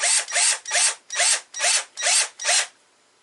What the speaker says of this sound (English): probably want to put your drill on a slower speed